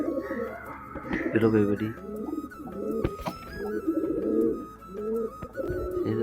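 Pigeons coo repeatedly in soft, rolling phrases close by, while a person talks over and between the calls.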